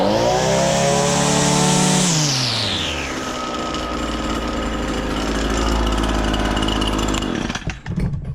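An Echo PAS-225 weedeater's two-stroke engine drops from a high buzzing rev down to a steady, close, loud idle that holds for several seconds before faltering near the end, with no talking.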